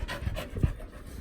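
A pet dog pants close by in quick, rhythmic breaths, fairly loud and alone, for about a second.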